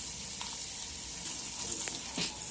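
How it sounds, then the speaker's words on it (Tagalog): Garlic and onion sauté in butter and cooking oil, making a steady, close hiss of sizzling with a few faint crackles and light stirring scrapes, no voices. "Igisa lang natin ng mabuti itong ating sibuyas hanggang sa maging translucent na yung color"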